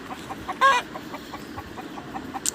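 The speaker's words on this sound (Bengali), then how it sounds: "ডাকছে মোরগ" A rooster on a small backyard farm gives a brief, loud call near the start, followed by soft clucking and faint background farmyard noise.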